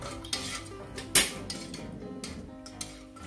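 A spoon stirs sugar and agar powder in a metal pot, scraping and clinking against the sides in a steady rhythm, with one sharper knock partway through; close and fairly loud, no talk.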